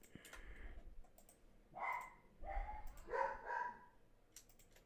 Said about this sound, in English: I don't know why my dog keeps barking.